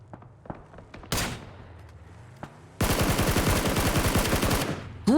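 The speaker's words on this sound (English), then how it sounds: "Great headshots onto Fate" Bursts of automatic gunfire in the battle royale game PUBG during a pro esports scrim, a brief shot early then a sustained loud rattling volley of rapid repeated shots through the second half, with a final sharp shot at the end.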